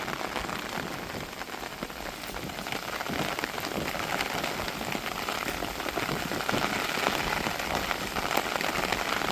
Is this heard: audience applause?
no